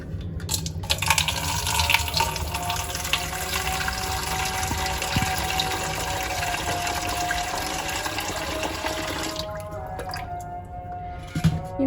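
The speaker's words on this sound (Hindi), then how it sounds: "पहले तो पानी ले लेते हैं।" Water pours and trickles steadily into a vessel for making tea in a home kitchen, a continuous close running-water sound with small drips and clinks, tapering off near the end.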